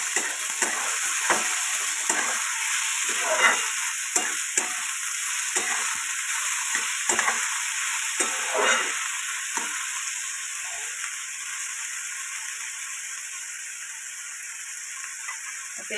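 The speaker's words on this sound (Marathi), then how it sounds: "चांगली भाजी तेलात टाकून भाजून घ्यायच्या चांगल्या." Capsicum, tomato and cabbage sizzle in hot oil in a home kitchen pan, a steady bright hiss broken by repeated scraping stirs, loud and close, with no talk.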